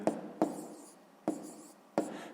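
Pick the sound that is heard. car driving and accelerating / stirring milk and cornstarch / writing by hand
writing by hand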